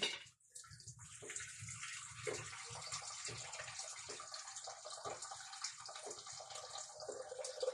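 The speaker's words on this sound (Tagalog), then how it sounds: "Tapos, lagay ng tubig." Water is poured into a cooking pot that holds onions, a soft continuous splashing and trickle heard quietly and alone for several seconds.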